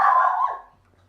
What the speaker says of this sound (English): Sometimes she sees coyotes, so I don't blame her for barking